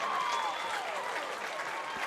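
Crowd at a men's baseball game at the Canada Games cheering and applauding after a double play at home plate, a steady wash of clapping and whistles from the stands, with no talking.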